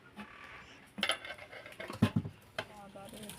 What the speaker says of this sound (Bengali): এবারে আমি ঢাকনাটা চাপা দিয়ে পনেরো মিনিট আঁচে বসিয়ে নিলেই হয়ে যাবে বিরিয়ানি